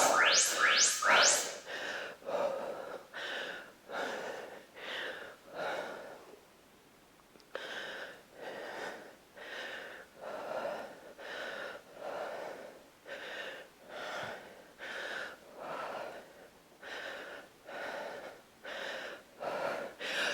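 Heavy breathing during a crossover lunge workout in a strength session: steady, rhythmic, loud exhales and inhales repeating about every second, close and unbroken by talk.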